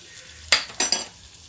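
Asafoetida tempering hits hot oil for a chana dal tadka, giving two or three sharp, short sizzling bursts that quickly fade, close and loud in a quiet kitchen.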